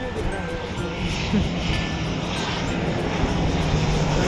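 A helicopter flies over a beach, its steady engine and rotor drone holding loud and continuous throughout against open outdoor ambience.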